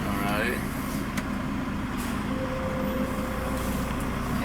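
A Volvo FH16 truck with a 610 hp engine pulls away, its deep, steady diesel rumble sitting close and constant throughout, with voices faintly present over the drone.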